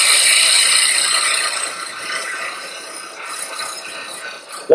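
A woodturning gouge taking a shearing cut on a lathe, giving a continuous close hissing scrape that fades slightly toward the end.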